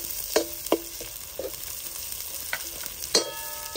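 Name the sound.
ginger, garlic and green chili sautéing in a pan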